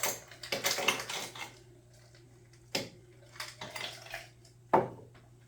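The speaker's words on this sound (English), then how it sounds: "We're gonna add some ice." Ice cubes dropped into a copper mug while mixing a Moscow Mule: a few sharp, clattering clinks in separate bursts with quiet gaps between them, close and fairly soft.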